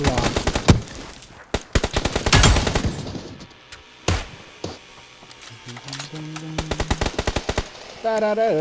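Rapid automatic gunfire in PUBG New State Mobile, the tactical match around Pochinki: loud clustered bursts up front, then scattered single shots and shorter volleys that continue to the end.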